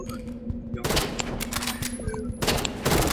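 Sniper rifle shots ring out in a video game, several sharp reports spread across a few seconds over in-game background noise.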